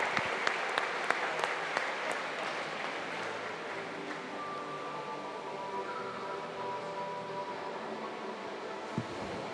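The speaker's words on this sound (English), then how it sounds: "Give a big round of applause, ladies and gentlemen, Luan Grobler" Crowd applause for a swimmer at a national swimming championship in an indoor pool venue, a broad, sustained wash of clapping that runs throughout at moderate level, with a few sharper claps early on and a faint tone behind.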